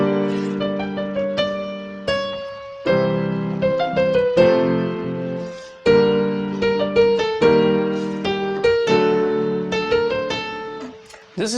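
Keyboard plays the violin-voiced intro of a song from Raaz, a clear solo melody of sustained, bowed-sounding notes over held chords, with short gaps between phrases.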